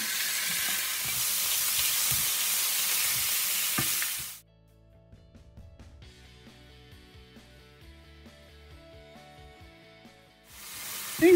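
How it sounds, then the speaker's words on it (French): Ground beef fries in the same pan used earlier: a loud, steady sizzle for about four seconds, then it cuts off to near silence with a soft musical passage before the sizzling returns at the end. "je vais faire cuire maintenant donc la viande hachée. Toujours dans la même poêle, je dépose la viande hachée."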